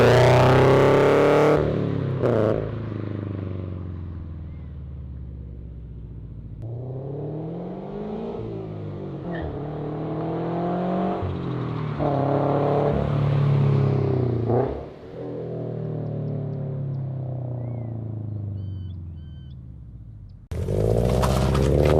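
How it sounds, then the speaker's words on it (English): Exhaust of an FT86 fitted with JDL unequal-length headers, revving repeatedly with rising and falling engine pitch, loud and close, rumbling at idle between throttle blips. "if you're interested on what the JDL unequal length headers sound like, this is what it sounds like"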